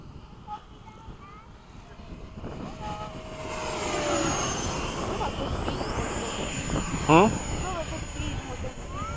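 A radio-controlled model F/A-18 jet flies a touch and go at a model airfield, its engine whine rising and sweeping past nearby over a couple of seconds, with people talking throughout.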